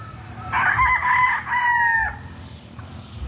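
Rooster crowing at a gamefarm, one clear crow of about a second and a half that breaks into a second drawn-out phrase, close and loud over faint background noise.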